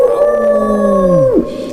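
A loud, close animal howl, one sustained tonal wail that holds steady and then drops sharply at the end, used as a sound effect in a spoken scary tale, heard alone without narration.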